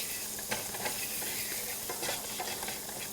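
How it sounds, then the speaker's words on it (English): Garlic sautés in melted butter and oil in a pan, a steady soft sizzle with faint stirring scrapes and occasional small pops, close and fairly quiet, with no talking. "we're going to add the garlic first and saute it just for a minute or so"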